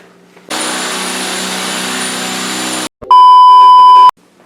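A power drill fitted with a Super ATV bit bores into a 2024 Polaris RZR XP 1000 during a winch and inner fender install, a steady loud whir of about two seconds, then a brief pause and a shorter high-pitched burst.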